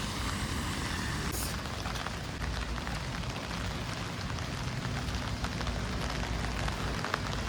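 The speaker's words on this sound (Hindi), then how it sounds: "तो समझ सकते हैं कि कितना ही ज़बरदस्त बारिश अभी है" Heavy rain falls in Taiwan as a dense, even hiss that continues throughout, with a faint rumble of traffic beneath it.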